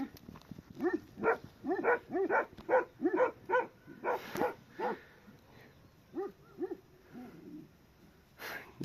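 A dog barks rapidly and aggressively at a shepherd's flock dogs in a steady string of sharp, close barks, pausing briefly before a few more.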